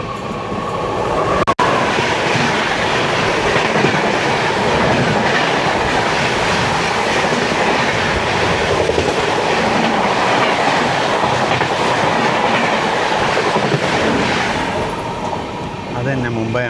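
The Mumbai–Ahmedabad Karnavati Express rumbles past on the opposite line, a steady loud rush of rolling wheels and clattering carriages heard from inside a moving Gandhidham–Tirunelveli Humsafar Express near Virar, with faint talk underneath.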